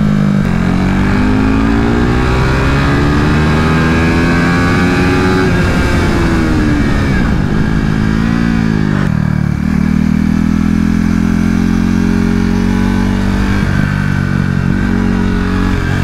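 KTM RC 390 Cup single-cylinder race motorcycle on a track at Adams Motorsport Park, engine droning loud and steady throughout with rising and falling revs through gear changes, no talking.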